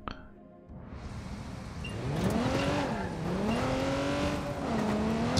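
A car in the game Watch Dogs 2 revs and accelerates, its engine pitch rising and falling through gear changes, with crashing thumps and scraping metal as it takes damage.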